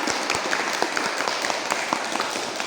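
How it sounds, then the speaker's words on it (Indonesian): A group at a counseling mini workshop claps together, a steady close wash of many hands with crisp individual slaps standing out, continuing evenly throughout with no talk over it. "mari kita tepuk tangan untuk kita semua."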